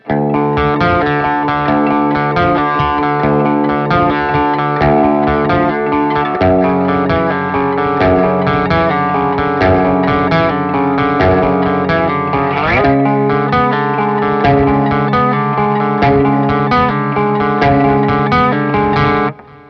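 An electric guitar plays a continuous distorted riff with heavy effects and reverb, loud and dense throughout, shifting position twice along the way.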